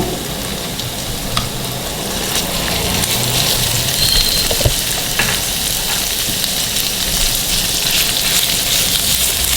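Minced beef sizzles and crackles in a pan with chopped onions fried light pink, a steady dense frying hiss with occasional stirring scrapes, close and fairly loud throughout.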